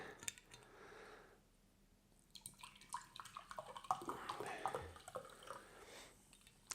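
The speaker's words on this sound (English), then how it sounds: "I'll just get some water. My favorite Vichy Catalan." A bottle of Vichy Catalan sparkling water is handled and poured, giving faint clinks, fizzy crackles and a trickle of liquid, quiet and close, with light clatter throughout.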